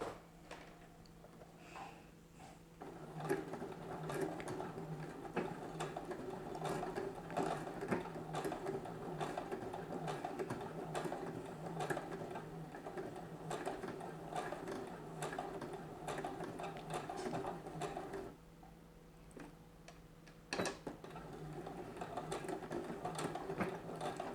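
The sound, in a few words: sewing machine sewing hooks and eyes onto a bralette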